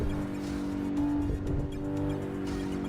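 Cars colliding and scraping on the road in a racing video game played on a sim rig, continuous engine roar with thumps and tire noise throughout, loud and close.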